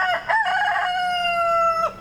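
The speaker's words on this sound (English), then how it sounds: "When a hawk flies over, you'll hear the rooster call out and warn the flock." A rooster crows loudly and close by among a flock of hens, one long sustained call with a rising start and a falling tail, with no voices over it.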